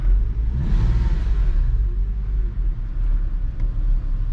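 Porsche cars driving at a Porsche meet produce a loud, low engine rumble that swells and fades as vehicles pass close by, with deep exhaust tones and no speech.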